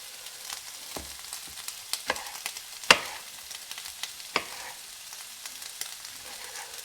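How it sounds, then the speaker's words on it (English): A knife chopping tomatoes on a cutting board for Filipino corned beef and rice, with scattered sharp taps and thuds at an irregular pace over a quiet background, no talking. "when you cut it like this, it squeezes the tomato"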